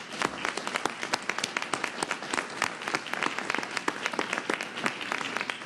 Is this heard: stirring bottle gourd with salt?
no